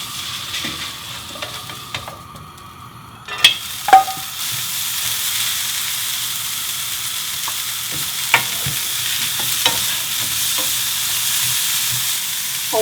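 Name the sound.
cucumber stir-frying quickly in a little oil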